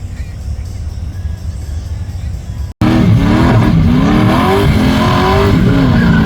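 A BMW M3 roars loudly at a street race, its engine revving up in rising, wavering tones after a brief cutoff, with crowd noise and background voices underneath.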